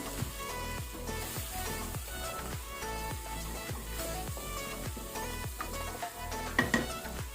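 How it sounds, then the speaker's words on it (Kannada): Dry masala and softened tomato frying on a low flame for brinjal biryani, a steady, soft sizzle with regular stirring scrapes of a spoon in the pan and no talk. "ಲೋ ಫ್ಲೇಮಲ್ಲಿ ಸ್ವಲ್ಪ ಫ್ರೈ ಮಾಡ್ಕೊಳ್ಳುವ"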